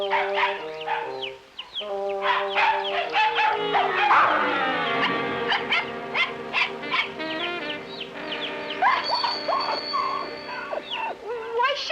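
A dog barks and yips repeatedly in a 1951 film scene, the sharp calls mixed with whimpers and a crowing fowl over a busy, layered background, loud and close throughout.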